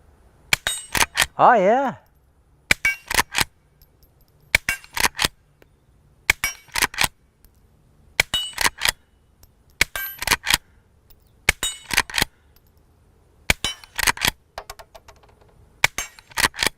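Suppressed shots from a threaded Henry Frontier lever-action rifle ring off a steel pistol plate rack, each quiet report followed by a sharp metallic clang, repeated in evenly spaced pairs across the clip, with a brief spoken remark early on.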